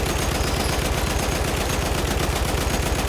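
A Lewis gun in a World War I game on Verdun heights fires in a sustained, loud, rapid stream of shots with a steady rhythm and no pause.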